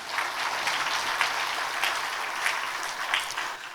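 A church congregation claps at an anniversary service awards presentation, a continuous, moderately loud round of applause with no music or voices standing out.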